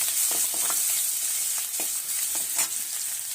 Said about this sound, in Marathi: तमालपत्री दालचिनीचा तुकडा आणि आलं लसूण हे सर्व घालून छानपैकी मिक्स करून घेऊया